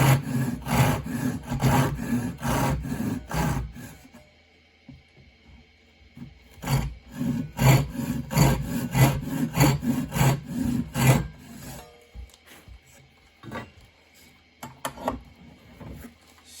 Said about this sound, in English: I'm going to rip cut down to that line with the Japanese